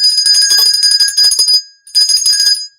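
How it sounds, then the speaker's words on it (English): A small hand bell rings rapidly and brightly up close, a continuous shimmering jangle for over a second, a brief pause, then another quick burst of ringing. "Hold on. My magical bell."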